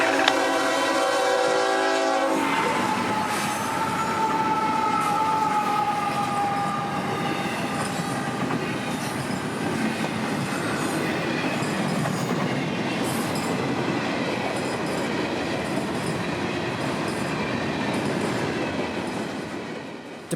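A Florida East Coast Railway freight train passes close by at night, its horn blaring at the start before giving way to a long, loud rumble and clatter of wagons rolling steadily past.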